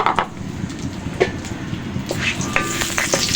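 Whole mace, cloves, cinnamon sticks and cubeb pepper crackle and sizzle steadily in hot oil for chicken tehari, with a few sharp pops and faint stirring clinks close up, and no voices.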